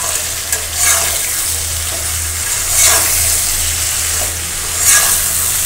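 Eggplant and new potatoes frying in a pan, a steady close sizzle with stirring scrapes swelling a few times, no voices.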